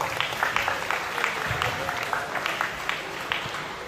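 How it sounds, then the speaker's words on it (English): Audience applause at the Pacific Warrior Challenge 2023 event in Samoa, a steady wash of many hands clapping across the whole stretch, with occasional sharper claps standing out and a loud crowd filling the room. "put a round of applause together for the Maris"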